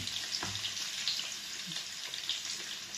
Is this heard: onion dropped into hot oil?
yes